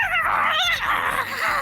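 A puppy in a game yips and whimpers in quick rising and falling squeals, close and loud, over a steady low rhythmic hum, struggling without pause.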